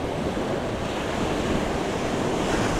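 Ocean surf breaking steadily at high tide off Jensen Beach, a continuous loud wash of waves with wind buffeting the microphone and no gaps.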